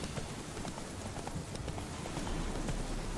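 Horse hooves clip-clop at a quick, steady pace over a constant rushing background in the video game The Witcher 3, with a game-like, slightly synthetic tone.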